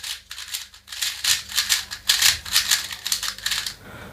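Layers of a Weilong V11 SE standard edition speed cube clack in quick, close bursts of crisp plastic clicks, each run of turns separated by short gaps.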